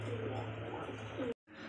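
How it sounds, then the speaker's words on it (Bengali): Red Rasgolla pigeons coo softly with a low, rolling murmur at close range. The sound cuts off briefly near the end. "তো দর্শক দেখতে পাচ্ছি এখানে আরো একজোড়া কবুতর"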